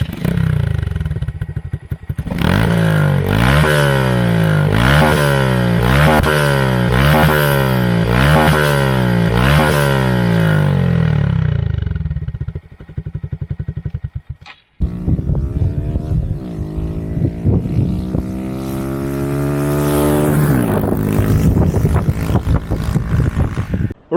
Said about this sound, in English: Let's do a standing still revving test.